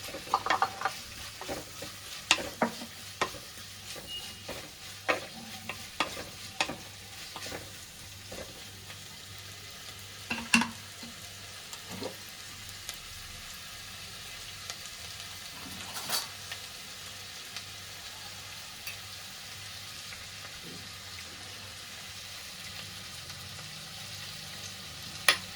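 Onions fry in a pan under a low steady sizzle while a utensil scrapes and taps against the metal in irregular bursts, close and fairly quiet over a long stretch.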